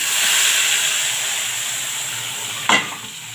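Hot tasha, garlic fried in fat, poured into a mallow dish: a steady frying hiss, then a sharp, loud sizzling burst near the end that quickly settles.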